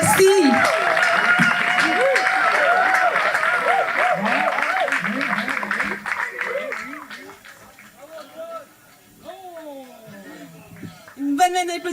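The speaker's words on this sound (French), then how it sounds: "Applaudissez Antoine Bécotte, 35 ans, à travailler pour la fête nationale." At an outdoor Fête Nationale celebration in Parc Ahuntsic, a crowd applauds loudly and continuously, then the clapping fades while voices and chatter take over, with a brief burst of claps at the very end.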